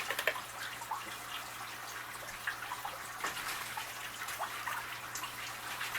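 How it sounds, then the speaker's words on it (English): Water is poured into a pet's dish inside an enclosure, giving a soft, steady trickle and splash with a few small drips. It stays fairly quiet and close, and no one speaks. "Let's give her a little water in her dish."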